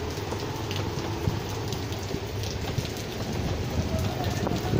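Steady rain hisses across the whole stretch in Lahore, a dense even wash of drops on surfaces with a low rumble beneath and faint voices.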